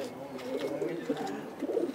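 Pigeons coo softly close by in a loft, their low, rolling burbling calls repeating and overlapping, with faint voices murmuring in the background.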